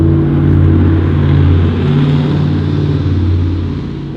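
A loud, deep truck engine rumbles steadily throughout, swelling and easing slightly as the heavy vehicle passes close by.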